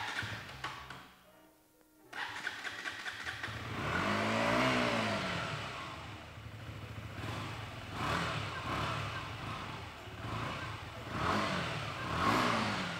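A crashed motorbike running on very old fuel idles roughly, its close engine surging and sagging unevenly, nearly cutting out for a moment before catching again and running on raggedly.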